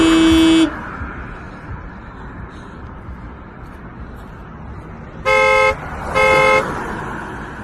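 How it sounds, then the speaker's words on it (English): Car horns honking at someone in a vehicle on a hot day: one long blast, then a pause with road noise, then two more horn blasts close together, loud and near. "Why is everyone honking at me?"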